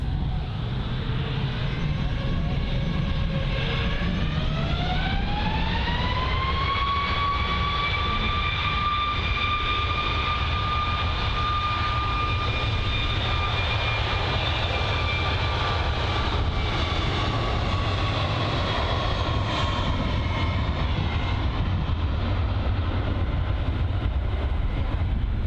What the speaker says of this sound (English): So the TUI 77 MAX 8 is going to be cleared for departure.